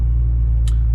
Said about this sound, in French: On a un bruit d'échappement qui est très présent, et un vrai bruit d'échappement